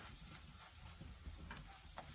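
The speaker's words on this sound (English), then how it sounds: "let those kind of sizzle away so you can see my fire's good and hot" Fritters sizzling in a hot pan over a wood fire in a cabin, a steady close crackling hiss that runs continuously with small pops rising and falling.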